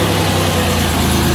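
A Buick Grand National's engine idles, a fully forged and built bottom end rumbling low and steady at close range, with a dense, even throb and no speech over it.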